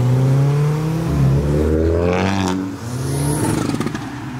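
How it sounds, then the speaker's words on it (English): A modified Mini's engine revs at a rainy car meet, with a loud, close blip that climbs and falls in pitch, then a second shorter rise ending in crackling, popping exhaust. "The Mini giving some revs."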